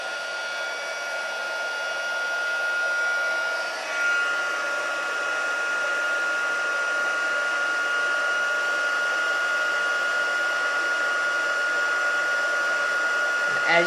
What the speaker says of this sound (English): bring the heat gun back in again